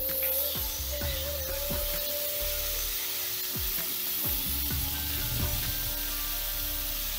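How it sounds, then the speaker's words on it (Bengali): Boiled young jackfruit frying in oil in a pan, giving a steady sizzle with repeated scraping and stirring clicks from a spatula, close and even throughout. "ওই তেলেই আমি এখন এই যে সেদ্ধ করা এঁচোড়টা ভেজে নেব"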